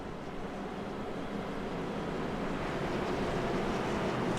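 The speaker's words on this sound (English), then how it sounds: "the track Too Tough to Tame sounds beautiful with the roar of engines" Race car engines of the SMR X Series roaring around Darlington raceway, a continuous loud, dense broadband drone that holds steady and swells slightly over the whole stretch, with no voices.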